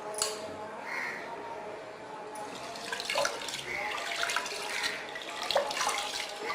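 Lentils for mango dal are washed by hand with water in a bowl, giving close swishing, splashing and trickling with occasional louder sloshes, steady throughout with no speech.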